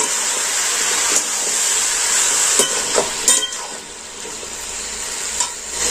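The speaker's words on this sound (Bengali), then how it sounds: "আমি যে কুমড়ো আলু ঝিঙে ভেজে রেখেছিলাম সেটা আবার দিয়ে দিচ্ছি। এটা আমি আবারও নাড়াচাড়া করে কষিয়ে নেব।" Pumpkin, potato and ridge gourd that were fried earlier are stir-fried again in a pan. A continuous sizzle runs under several sharp scraping clacks of a spatula against the pan, with no voices.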